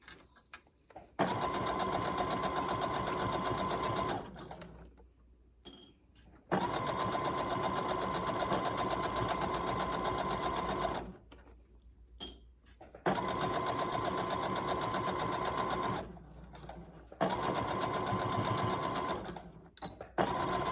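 Sewing machine stitching the end of a fabric hem, running in three long steady bursts of several seconds each, separated by brief pauses, with no talk.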